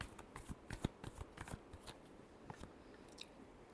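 Tarot cards being shuffled by hand during a love reading: a run of quick, dry papery riffles and soft slaps, close and fairly quiet, with uneven bursts across a few seconds and no voice.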